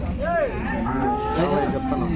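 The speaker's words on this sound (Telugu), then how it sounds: "ఇక్కడ కూడా ఒక కాడి ఎద్దులు అయితే దూడలు అయితే ఉన్నాయి" Cattle at a rural bull and calf market moo in short, clear calls, one near the start and another softer one later, over a steady murmur of background crowd noise.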